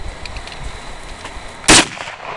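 A single loud, sharp gunshot cracks out close by during a firearms drill, a brief burst that cuts through low background noise and quickly dies away.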